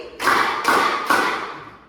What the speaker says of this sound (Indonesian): Tepuk nyamuk 3 kali.